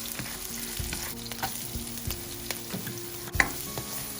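Chopped onion and ginger sizzling in oil with chicken liver for adobo, giving a steady close frying hiss broken by soft stirring clicks against the pan.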